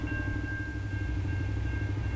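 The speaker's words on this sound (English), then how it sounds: "Just waiting for the train to go past" A steady, heavy rumble of a passing train fills the clip, with a constant low roar and a faint high whine throughout.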